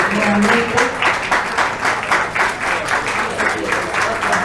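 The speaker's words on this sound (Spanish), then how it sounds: "Le brindamos un aplauso, por favor." Audience applause at a poetry reading and lecture at a book fair, a steady dense clapping from a full room that continues evenly throughout.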